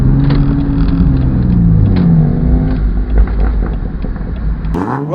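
BMW cars, including Z4s, rolling into a rooftop car meet, with a loud, close engine rumble and shifting revs that rise and fall, then a final sharp rev at the end, with no talking.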